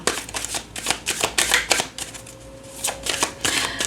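Tarot cards are shuffled by hand for a reading, a quick run of close, crisp riffling bursts that repeat in an uneven rhythm for a few seconds.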